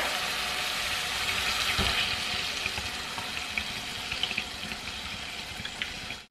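Water streams steadily into a pot in a continuous hiss and splash, fairly close and even throughout, ending abruptly.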